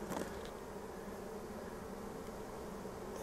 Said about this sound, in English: I'm really hoping these guys stick around, because these are some nice bees